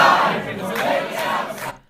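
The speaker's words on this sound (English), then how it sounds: "you can hear the people outside chanting" A crowd of protesters outside a senator's dinner meeting chants and shouts in unison, a loud, dense roar of many voices that swells and then cuts off.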